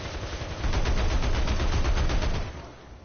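Rapid, continuous gunfire from an aircraft's guns rattles loudly in a flight sim, a dense sustained burst that cuts off near the end.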